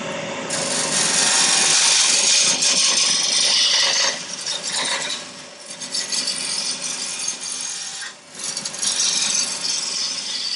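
A ball gouge cutting a spinning wood blank on a lathe while turning a sphere, giving a steady scraping, shaving hiss that eases off briefly midway and then resumes, close and alone.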